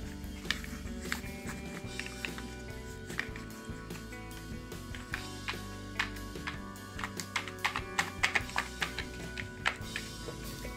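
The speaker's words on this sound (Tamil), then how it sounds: "பேப்பர் பாப்பெட் வச்சு பண்ணும்போது ஓரளவுக்கு சவுண்ட் வருது." A handmade paper pop-it fidget toy being pressed, producing many small crisp pops and taps in an irregular steady stream over a droning musical background, clustering more densely near the end.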